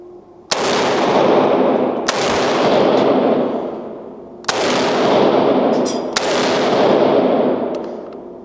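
An M1 carbine firing .30 carbine rounds outdoors, four loud sharp shots spaced about two seconds apart, each followed by a long rolling echo, with no talking.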